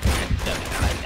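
A burst of rapid gunfire from the Uncharted 2 video game, several closely spaced loud shots packed into about a second, with no voices over it.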